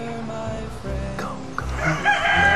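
A rooster crows nearby outdoors with a few drawn-out calls, while a steady background noise runs underneath.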